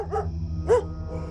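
A dog gives two sharp barks close by, spaced apart, followed by a faint softer yip over a low background hum, barking suddenly for no apparent reason.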